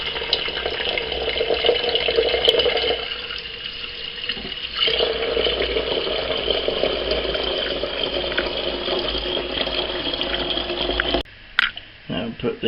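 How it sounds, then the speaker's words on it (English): An electric kettle filled from a running kitchen tap, a steady loud rush of water with a brief dip midway and a sharp cutoff near the end, followed by a few clunks. "take the kettle and fill it with some water"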